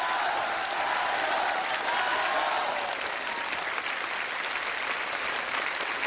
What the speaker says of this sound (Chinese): 大家鼓掌给小恒毅加加油。